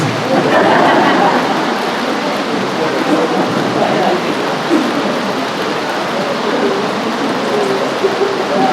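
Steady heavy rain pours with low rumbles of thunder underneath, a dense, continuous wash that stays loud throughout.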